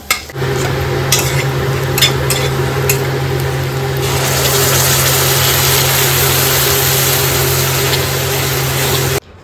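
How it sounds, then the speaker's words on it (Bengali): Onions fry in a wok for biryani beresta, giving a loud, steady, close sizzle over a low hum, with a few clinks of stirring early on before the sizzle swells and holds. "এখানে বেরেস্তা ভাজা হচ্ছে"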